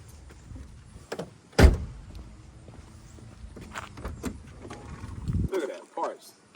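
The trunk of a Mercedes 500SEC opens with a sharp latch clunk, followed by scattered knocks and rustles of the lid and stored parts, close, with some faint voices.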